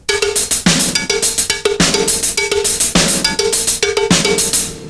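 Right-hand cowbell hits alternating with left-hand hi-hat strokes, with accents on beats 2 and 4, played as a continuous close, loud drum kit groove.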